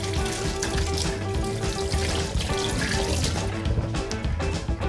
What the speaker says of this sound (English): rinse the carrots under cold water.